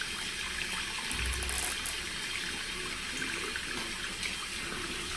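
Hot tap water runs in a steady, continuous stream, rinsing soap off a piece of poly hair, with no talking.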